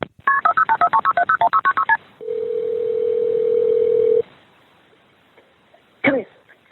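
A telephone dials at the start of a recorded 911 call: about a dozen quick keypad tones in a rapid run, then a steady two-second ringing tone, followed by quiet line noise and a brief cough-like sound.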